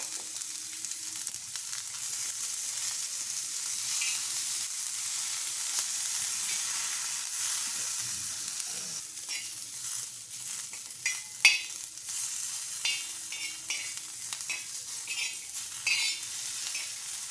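Onion, garlic and fresh ginger sizzling in hot oil in a pan for sprouted green gram sambar, a constant soft frying hiss with occasional stirring clinks and scrapes, no talk.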